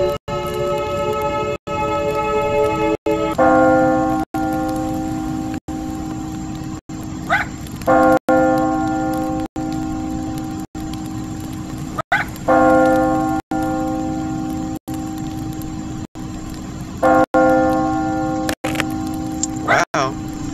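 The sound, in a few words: church bell ringing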